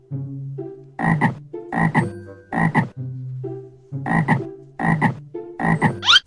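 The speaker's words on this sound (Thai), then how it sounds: "เสียงกบ" A frog croaks loudly and close, repeating in rhythmic bursts of rasping calls with brief pauses between them.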